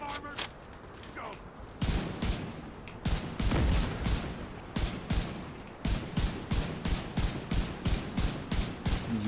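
Rifle gunfire from The Division 2 during a dust storm encounter: repeated loud bursts of shots, sparse at first then a steady rapid string of rounds through the second half, with faint game noise between.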